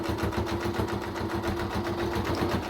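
A sewing machine stitching fabric for a neck warmer runs at a steady, rapid mechanical chatter with a constant hum underneath, close and fairly quiet, without talk.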